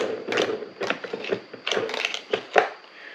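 Allen key loosening the head of a Wild Badger 40V cordless trimmer, a series of close, sharp ratcheting clicks and scraping metal crunches in irregular bursts, with no talk.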